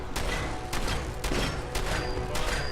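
Several heavy shotgun blasts in Fallout 4: Far Harbor, fired at roughly half-second intervals over a loud, dense game soundscape.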